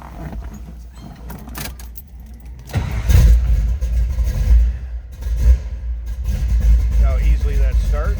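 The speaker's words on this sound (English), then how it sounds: "How easily that starts. We got a little rumble coming out of this." A 1972 Chevrolet Chevelle two-door hardtop cranks briefly, catches and settles into a loud, close, steady rumbling idle, with a voice talking over the engine.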